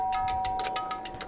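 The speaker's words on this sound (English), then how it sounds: "and pressed the doorbell" A doorbell in the video game Danganronpa, a bright repeating electronic chime of about eight quick tones over a steady hum, alone and fading slightly.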